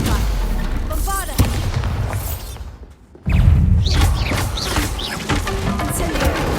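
Bombarda explosion spell cast in Hogwarts Legacy: a loud booming blast erupts amid dense, continuous game combat noise, with a short lull before a second heavy burst of clattering effects.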